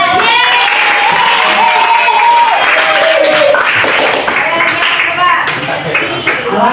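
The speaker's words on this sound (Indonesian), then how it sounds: "Iya, tepuk tangan." A classroom group claps hands after children recite a list of colours, a dense burst of clapping mixed with voices and chatter that carries on steadily before tapering slightly near the end.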